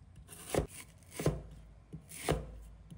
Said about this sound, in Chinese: 用刀切成均匀的小块